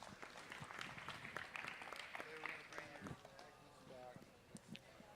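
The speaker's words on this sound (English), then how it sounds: "Let's give the young lady a round of applause." Audience at a county fair 4-H/FFA dairy cattle show applauding a heifer calf exhibitor, scattered clapping with an announcer's voice and animal and footstep noises mixed in, fairly faint.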